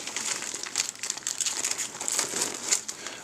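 Plastic packaging for medical tape crinkles close up in steady, continuous rustling as it is handled.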